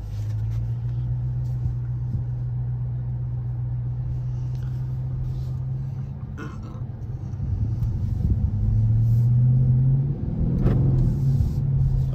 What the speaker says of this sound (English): Let's take it for a little spin.